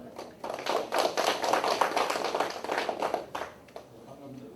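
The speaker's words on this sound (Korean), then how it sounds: "큰 박수로 모시겠습니다" Audience applause fills a hall at a Korean academic conference's citizen forum, a burst of many hands clapping that rises, holds for a few seconds and then thins out, fairly distant.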